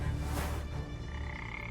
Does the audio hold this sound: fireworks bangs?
no